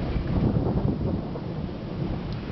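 Thunder rumbles low and continuously through a Northwest Indiana thunderstorm, a deep rolling roar mixed with wind buffeting the microphone and rain starting to fall, with no voices.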